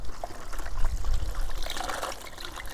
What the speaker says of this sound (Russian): Промываем все тщательно и хорошо.